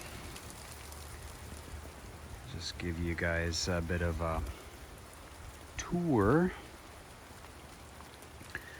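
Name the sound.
rain on a rainy West Coast day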